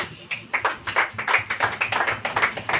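A church congregation claps its hands during a sermon, a brisk, fairly loud run of many overlapping claps that settles into an uneven rhythm for a few seconds.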